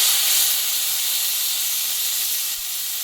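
Ginger, green chili and cumin paste frying in hot oil, a loud, bright, continuous sizzling hiss that eases slightly toward the end.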